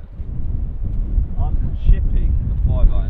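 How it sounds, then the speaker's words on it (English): Strong wind buffets the microphone on a high, exposed stretch of a golf course, a loud low rumbling roar under faint voices talking. "So this is the most exposed bit on the whole golf course, right? Yeah, we're sitting up high. There's a load of wind."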